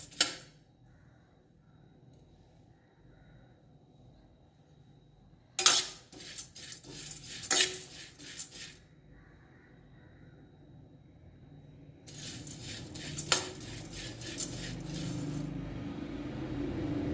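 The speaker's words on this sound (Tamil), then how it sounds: "ஒரு கப்பு ஓட்ஸ் எடுத்துருக்கேன். அதை வானலில் போட்டு வறுத்துக்கணும்" Oats dry roasting in a wok, with scattered bursts of dry rattling and scraping as the spatula moves them, separated by quiet gaps, close and without talk.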